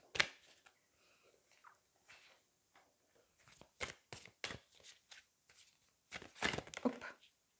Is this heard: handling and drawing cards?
yes